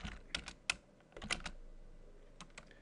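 A command typed on a computer keyboard while working on a Check Point firewall upgrade: a few quick bursts of close key clicks, then a pause and two final taps, with no talking.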